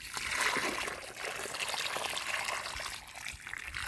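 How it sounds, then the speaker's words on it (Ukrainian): Water poured into a planting hole in soil, ready for a blueberry bush, a steady close trickling and splashing stream running for several seconds. "Спочатку треба налити води"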